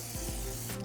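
A brief hissing burst of pan spray coats a bundt pan, one continuous close spray lasting under a second.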